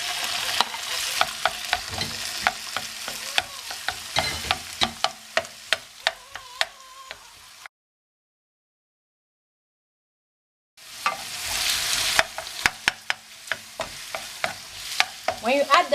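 Broccoli is tossed into a pan of frying bacon and crackles in a lively sizzle with frequent sharp pops and stirring clicks. A few seconds of dead silence cut the middle before the frying returns.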